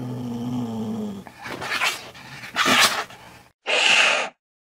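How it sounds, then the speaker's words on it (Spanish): Wildcat calling: a low growling rumble gives way to harsh, noisy snarls, ending in a short loud hiss-like burst, all close and unaccompanied. "el siguiente sonido que se trata de un gato salvaje"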